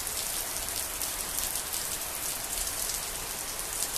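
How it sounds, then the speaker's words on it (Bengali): Heavy monsoon rain pours steadily and densely onto surfaces close by, a constant hiss with no voices over it. "দেখছো বৃষ্টি, দেখো"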